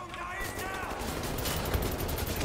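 Dense, rapid gunfire from the shooter Wolfenstein: The New Order, a continuous crackle of close shots layered with busy game effects for the whole stretch.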